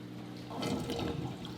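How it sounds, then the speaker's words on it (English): An H2O overflow drain on a 360-gallon aquarium gurgles and rushes as backed-up water flushes down like a toilet, a close, moderately loud whooshing surge swelling in the middle and trailing off without speech. "that is the H2O overflow. And what you're gonna see is the water's gonna back up a little bit, and then it's gonna flush down."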